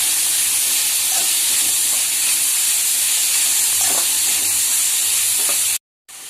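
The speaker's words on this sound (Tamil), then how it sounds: "ரொம்ப வதங்காமல் லைட்டாக சும்மா 1 நிமிஷத்துக்கு வெந்தால் போதும்." Ingredients for kara paniyaram, made with idli batter, lightly sautéing in a pan: a loud, steady sizzling hiss that continues unbroken before cutting out abruptly near the end.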